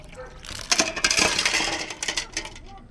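Rocks clatter and rattle as they pour out of a rock tumbler barrel, a dense run of clinking stone-on-stone impacts lasting a few seconds, fairly loud and close.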